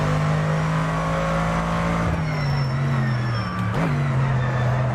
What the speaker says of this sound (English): You can hear that torque of the Dodge really kicking in though in these high gears